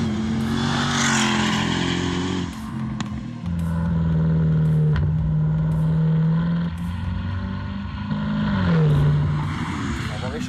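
A Jaguar F-Type SVR attacks a race track, its engine roaring up through the revs in loud, close pulls, dipping and climbing again between shifts.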